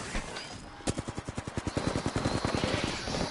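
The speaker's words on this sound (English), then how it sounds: "Opening fire on the enemy." Rapid automatic gunfire in the Apex Legends video game, a fast stream of sharp repeated shots after a single louder crack, continuing steadily close up.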